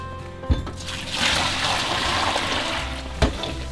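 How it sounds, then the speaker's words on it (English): Dishes being washed by hand with water heated on a wood stove inside a tiny yurt in minus 40 cold: steady splashing and trickling water with two sharp clinks of dishware, close up. "So I'm gonna do the dishes now."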